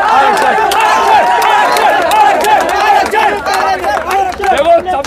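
A crowd at a political rally for reservation rights chants in unison, loud and close, with rhythmic voices and bursts of clapping mixed in.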